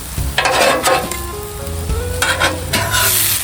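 Aldi shrimp sizzle loudly on a hot griddle as they are flipped, with scraping and clattering from the spatula over a steady frying hiss, up close and with no talk.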